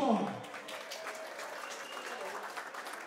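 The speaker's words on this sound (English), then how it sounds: "big round of applause" Applause from a boxing crowd at the Europa Hotel, a loud burst at the start settling into steady clapping that carries on throughout.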